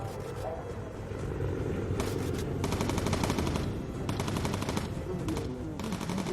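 Rapid machine gun fire rattles from a bomber's turrets in the Bomber Crew video game, dense repeated bursts layered over a constant engine drone, loud and continuous throughout.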